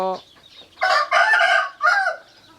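Chickens at a chicken coop, with a rooster letting out one clear, loud crow in several drawn-out phases, preceded by a short cluck.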